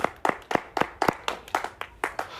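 A church congregation claps to acclaim the Lord, about ten loud, evenly spaced claps in a steady rhythm, close and clear with no voices over them.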